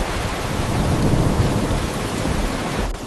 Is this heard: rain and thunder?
yes